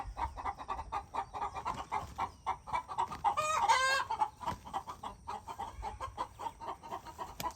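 Chickens and a rooster cluck steadily and close by in a shed or coop, a flurry of louder squawking breaking out midway before settling back into repeated clucks.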